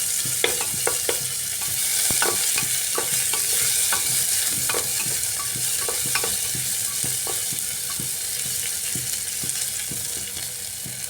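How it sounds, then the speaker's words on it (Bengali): Chopped onions for a soybean and rajma ghugni frying in a pan, a steady close sizzle with repeated spatula scrapes and taps as they are stirred, no talking. "পেঁয়াজটা দিয়ে একটু সময় আমি ভেজে নিচ্ছি"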